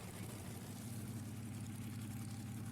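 A DayZ helicopter's engine hums as a continuous, even drone. Its heavy low-end throb holds steady, without breaks or rising and falling, for the whole stretch.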